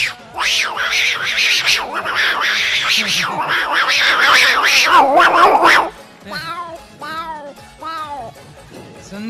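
A voice imitates two cats fighting, with drawn-out rising and falling yowls that swell into a loud, continuous caterwaul, then break into shorter, choppy mewling cries.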